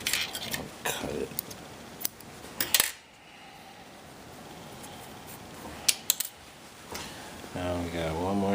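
A few short metallic snips and clicks of scissors cutting sewing thread by hand, close and quiet in a calm setting, with soft handling noises between cuts and a voice speaking briefly near the end.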